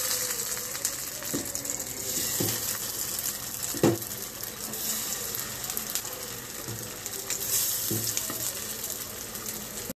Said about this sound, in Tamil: இப்போ நான் பேனில் ஆயில் ஊற்றி வச்சுருக்கேன் அப்புறம் நம்ம ஷாலோ ஃப்ரை பண்ண போகிறேன்